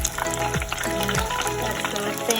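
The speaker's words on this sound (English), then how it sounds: "You hear the sizzle." Beer-battered fish pieces sizzle steadily as they fry in hot oil in a pan, a continuous close crackle with a few brief clinks over it.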